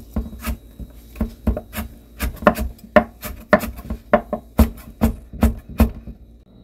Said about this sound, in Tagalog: slice naman natin ng pahaba yung ating carrots